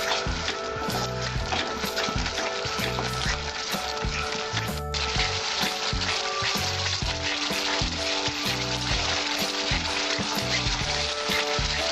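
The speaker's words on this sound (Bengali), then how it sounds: "আঁচটা কম দিয়ে অনেকক্ষণ এরকম ভাবে কষিয়ে নেবেন।" Masala for katla fish kalia sizzles steadily in a pan over low heat, a continuous dense frying hiss with rhythmic stirring scrapes throughout.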